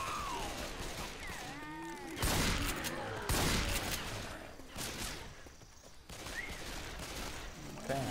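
Gunfire in Left 4 Dead 2, with bursts of shots and crashing impacts mixed with game noise and a voice talking intermittently between the shots.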